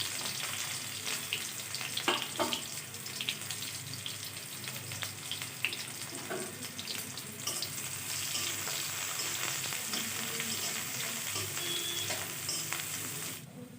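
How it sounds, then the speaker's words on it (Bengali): Onion fries in hot oil in a wok, a steady bright sizzle throughout with occasional scrapes and clinks of stirring, close and fairly quiet. "পেঁয়াজটা প্রথমে হালকা একটু ভেজে নেব"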